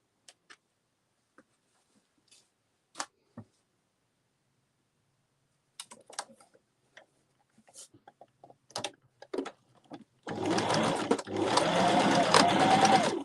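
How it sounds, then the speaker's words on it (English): Scattered clicks and small mechanical ticks, then a sewing machine starts up and runs in two bursts near the end, close and fairly loud. "If your sewing machine doesn't feel quite right, don't carry on regardless"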